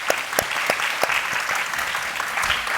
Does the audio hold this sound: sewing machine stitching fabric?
no